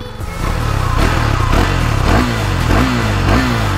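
A KTM Duke 390 motorcycle with its stock exhaust is revved repeatedly, with several quick throttle blips rising and falling over a loud, close engine note and no talking.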